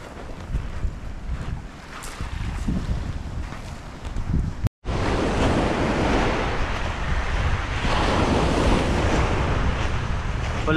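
Strong ocean surf heard from a small boat near an island, loud continuous wave rush mixed with heavy wind buffeting on the microphone, with a brief dropout midway before the roar resumes.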